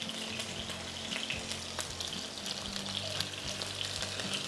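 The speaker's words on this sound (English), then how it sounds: "all the aromatics are going in first to flavor that oil" Green onion and garlic aromatics frying in hot oil in a Hawaiian home kitchen, a steady close sizzle with crackling pops and occasional stirring scrapes, no voices over it.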